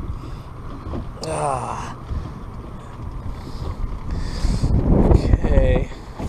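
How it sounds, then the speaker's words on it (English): Wind gusting across a boat on the California Delta during a fishing trip, a steady blustery rush with low buffeting rumble that swells louder toward the end, with brief creaks of boat gear. "The wind has started picked up."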